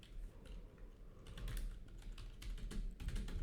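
Quiet typing on a computer keyboard while compiling a Nim program: soft, irregular key clicks tapping along over a low hum, faint and close, with no talking.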